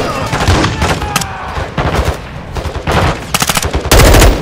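Heavy gunfire in Call of Duty: Modern Warfare 2, loud rapid automatic bursts and single shots crackling close by in irregular volleys, with a sustained burst at the end.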